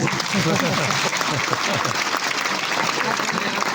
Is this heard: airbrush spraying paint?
no